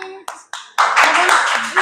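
Schoolchildren in a classroom break into a dense burst of hand clapping lasting about a second, preceded by a woman's brief spoken prompts and overlapped by voices.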